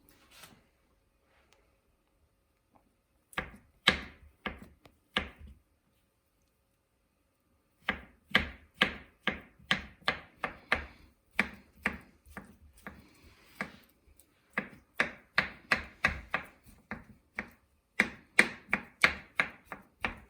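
A kitchen knife chops potatoes for hashbrowns on a cutting board in quick, sharp, close knocks. After a few isolated cuts and a pause, a long run of steady, rhythmic chopping follows.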